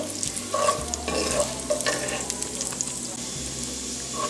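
Chopped onion stirred through melted lard in a pan, a steady sizzle of frying with scraping spoon strokes over it, close and fairly loud, no talking.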